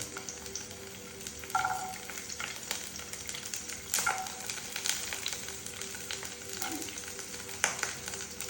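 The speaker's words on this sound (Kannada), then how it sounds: "ಸ್ವಲ್ಪ ಆಯಿಲ್ ಹಾಕೋಬೇಕು, ಸ್ವಲ್ಪ ಬೆಳ್ಳುಳ್ಳಿ ಹಾಕಬೇಕು." Garlic frying in oil in a home kitchen during festival cooking, a steady broadband sizzle with occasional stirring scrapes and clinks, close and continuous with no talking.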